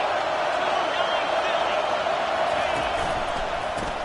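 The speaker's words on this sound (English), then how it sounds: "Decibels rising as the crowd gets behind this defense on third down." A stadium crowd at an American football game roars steadily on a third-down defensive stand, a dense broad wall of noise filling the whole stretch without letup.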